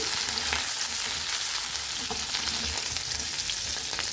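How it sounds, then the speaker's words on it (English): Diced capsicum fried quickly in smoking hot oil, a loud, dense, continuous sizzle with faint stirring underneath. "Once the oil is smoking hot, add in diced capsicum. Fry it quickly."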